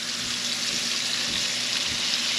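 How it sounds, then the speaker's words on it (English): Steady hiss of fish frying in hot oil, a continuous broadband sizzle with faint crackles throughout, close and fairly loud. "So I'm gonna start frying these so they can rest while I start the Metemgee."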